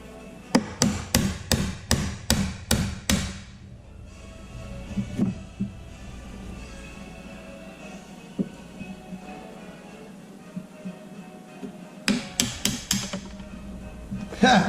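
A chisel taps a square wooden peg into a round hole in a rustic barstool built from farm fence boards: quick bursts of sharp, close wooden knocks, about eight in a row, then sparse taps and a second rapid burst near the end.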